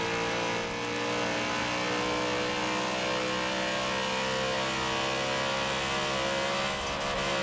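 The V8 engine of a stock 2002 BMW M3-GTR accelerating in the racing game Forza Horizon 4, a loud, sustained high-revving drone with rich steady harmonics, close and continuous for several seconds with no speech.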